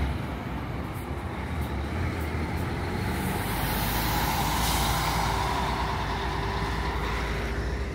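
Buses arriving at Curitiba bus station, a steady loud diesel engine rumble with surrounding traffic and a faint hiss of air brakes, continuous throughout with no voices.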